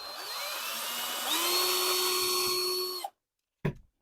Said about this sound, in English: I'll just show you how I drill